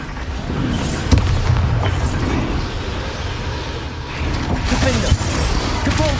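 A Bombarda spell explodes in Hogwarts Legacy during a fight to free a chained dragon. Heavy booming blasts and rumbling sound over constant game noise, with sharp impacts near 1 and 5 seconds and talk partly mixed in.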